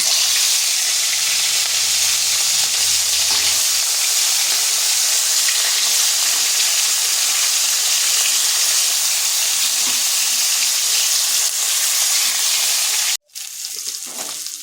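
Steady, loud sizzling of rohu fish pieces coated in salt and turmeric frying in hot oil in a kadai, a continuous crackling hiss that cuts off abruptly near the end, then resumes more quietly.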